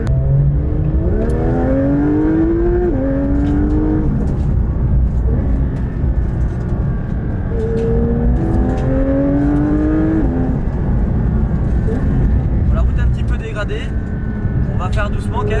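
A Porsche 911 GT3 992 engine pulls through the gears while driving, revs climbing and dropping with each shift, loud and continuous from inside the car, with someone talking over it.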